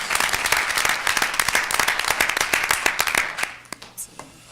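Audience applause at a school board of education meeting: dense, steady clapping from a room of people that thins out and fades near the end, with a few scattered claps trailing.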